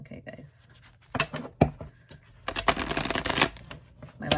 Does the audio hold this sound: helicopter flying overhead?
no